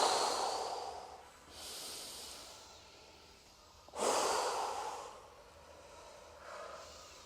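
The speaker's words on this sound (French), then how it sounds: "Vous allez dynamiser votre respiration pour la rendre plus tonique en soufflant plus fort." Forceful breathing during a sophrology exercise: a few long, loud exhalations blown out hard through the mouth, each followed by a quieter breath in, close to the microphone.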